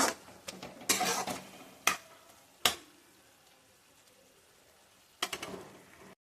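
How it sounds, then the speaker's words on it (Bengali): Eggplant fries in a pan in a home kitchen: a faint steady sizzle runs under several sharp metallic clinks and scrapes of a utensil against the pan, then the sound cuts to silence at the end. "তখন একটু বেগুন ভাজাটা করছি"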